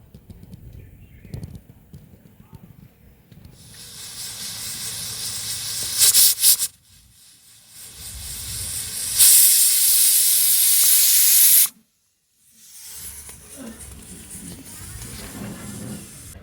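A pressure cooker boiling peas lets out loud hissing bursts of steam from its whistle, two long sustained releases with brief gaps, over a low background rumble of cooking.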